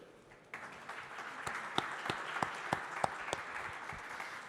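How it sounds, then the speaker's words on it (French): Conference audience at an offshore energy session breaking into applause after near silence, a moderate round of clapping with several sharp, distinct claps standing out near the microphone. "On peut tous les applaudir."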